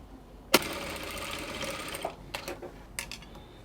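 A sewing machine stitches the shoulder seam of a wrap dress in a short burst, followed by a few brief mechanical clicks and whirs as the run stops.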